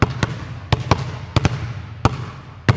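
A basketball pounded hard against a gym floor during a ball-handling drill, sharp loud bounces landing in an uneven rhythm of about eight hits, some in quick pairs, over a faint low hum.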